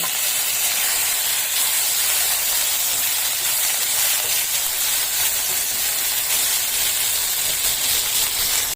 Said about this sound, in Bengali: লাউ, ঝিঙে, রাঙা আলু এই সবগুলো ভালো করে একটু নেড়ে নেব